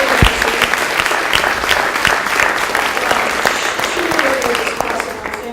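Loud, close applause from an audience at an academic session on student learning outcomes assessment. A full, steady wash of many hands claps for several seconds with a few sharp individual claps standing out.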